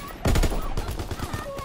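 Gunfire crackles in a World War II video game: a loud burst of rapid shots starts abruptly, then trails into scattered cracks and echoes.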